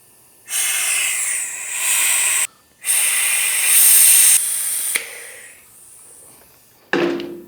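A vacuum brake bleeder pulls brake fluid through the master cylinder of a Honda VFR800 motorcycle, giving loud, sustained airy hissing in several long pulls that change in strength, with brief gaps and a final sharp burst.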